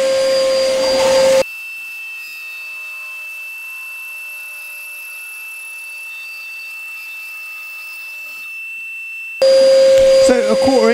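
A power saw cutting wood for a carved kuksa cup: loud whining motor bursts at the start and end, with a quieter steady high tone between them.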